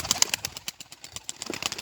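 Pigeon taking off with a rapid flurry of wing claps, close by, in a run of sharp flaps that thins out over two seconds.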